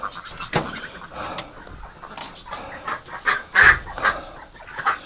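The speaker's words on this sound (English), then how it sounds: "the last duck" Several ducks quack loudly and close by in irregular bursts of harsh calls, with a couple of louder honking peaks in the middle.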